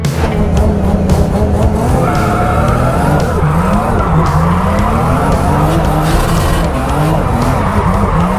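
A Nissan 350Z drift car skids hard at a drifting championship, its tires squealing continuously over a loud, roaring engine for the whole stretch, close and unbroken.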